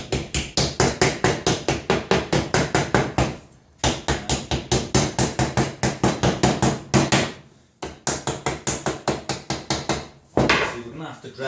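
A hammer dresses welded metal pieces with fast, evenly spaced ringing blows in three long runs, each separated by a short pause, loud and close, with brief talk at the very end.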